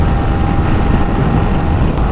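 A Yamaha R15 v3 motorcycle with a modified stock exhaust runs at full rpm in fourth gear, a loud, sustained engine roar mixed with heavy wind rush, steady and close throughout.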